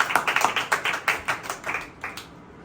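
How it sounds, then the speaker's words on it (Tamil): A church congregation claps their hands together in praise, a quick run of roughly a dozen fairly even claps that stops after about two seconds, with no voices over it. "கைத்தட்டி ஆண்டவரை மகிமைப்படுத்துவோம்"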